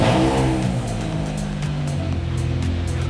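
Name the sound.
new exhaust revving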